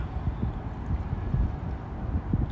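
Wind buffets across open water on a boat trip, a low, steady rumble pressing on the microphone with small gusty swells and no talking.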